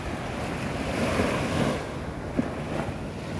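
Waves washing onto a Mekong River beach in strong wind, a continuous broad roar of surf and gusting air buffeting the microphone, with no one speaking.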